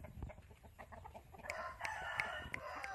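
Chickens clucking and a rooster crowing nearby in the sun as hens dust-bathe, with scattered rustling and clucks throughout and a rooster's crow rising partway through.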